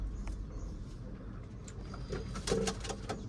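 Pet pigeons coo quietly in a loft, low and faint, with a few short knocks and shuffling sounds near the end.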